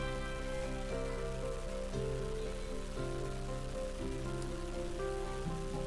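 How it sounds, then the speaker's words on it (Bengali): Hilsa fish pieces, a tail and two steaks, fry lightly in hot oil, giving a steady, close crackling sizzle that runs unbroken throughout. "আমি মাছগুলো একটু ভেজে নিব, হালকা ভেজে নিয়ে মাছটা আমি উঠাই নিব।"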